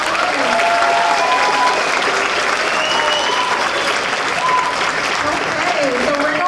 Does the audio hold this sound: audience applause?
yes